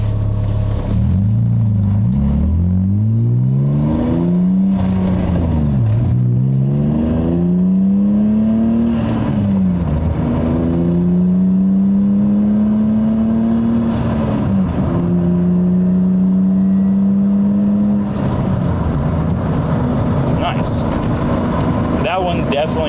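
A BMW E36 accelerating hard from 60 to 80, its engine note climbing steadily through the gears with brief dips at each shift, loud and droning, with road and wind noise underneath.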